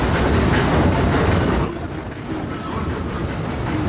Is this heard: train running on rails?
yes